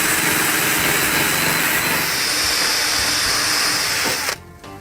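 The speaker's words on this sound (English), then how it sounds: "one of these clean and strip wheels" A clean and strip wheel grinds paint off a car body with a loud, steady, hissing whir that stops abruptly just before the end.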